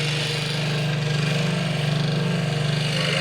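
Electric saw with a flat blade cutting wooden letters for a child's wooden toy, giving a steady, close, fairly loud motor hum with a faint pulsing rattle and no voices.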